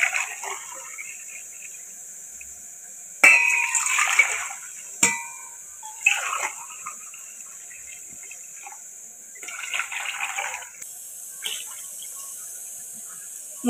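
Water poured into rice for cooking white khushka splashes in several separate bursts, a close, hissing pour with pauses between.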